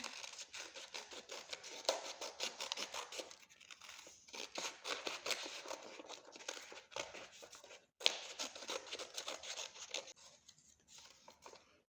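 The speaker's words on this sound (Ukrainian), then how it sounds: "Вирізаємо її ножицями, хай батьки вам в цьому допоможуть." Scissors snipping a paper hand shape for a children's water-themed craft, a long run of small crisp cuts with paper rustling, close and soft, without talk.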